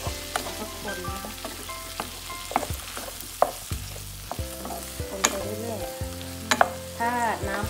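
Brussels sprouts stir-fried in a pan, sizzling steadily up close while a utensil stirs them, with scattered scrapes and knocks against the pan.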